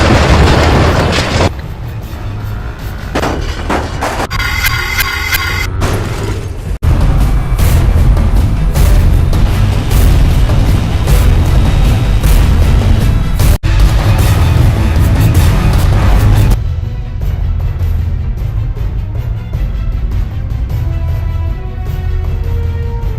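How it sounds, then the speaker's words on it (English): Heavy booms and explosions from a ballistic attack sound effect rumble loud and dense, with sustained deep blasts and layered bursts, briefly cutting out between sections. "General Campbell, sir, are we going forth with a ballistic attack?"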